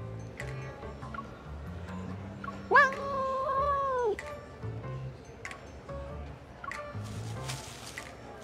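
Cat meowing in the video game Love & DeepSpace, a single drawn-out, clear meow in the middle over soft game ambience and quiet background tones.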